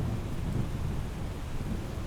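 Rain and thunder from inside a hangar in Microsoft Flight Simulator, a dense low rumbling roar with steady rain hiss throughout, fairly loud and unbroken, with no talking.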